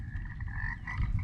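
A phone ringtone mimicking a croaking frog sounds from a beach wildcamp on a wet July day, a steady near croaking pattern repeating throughout, loud and alone against faint outdoor background.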